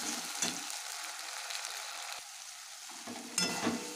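Ginger garlic paste masala with a bay leaf frying in mustard oil in a pan, a steady close sizzle with brief bursts of stirring near the start and end.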